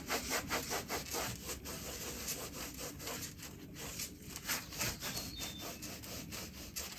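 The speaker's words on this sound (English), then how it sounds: "spray some ACF 50 on my cloth, which is already soaked in ACF 50, and just rub it into the side there" A cloth soaked in ACF 50 is rubbed back and forth along the side of a hot rod's body, giving a close, steady run of rhythmic rubbing strokes.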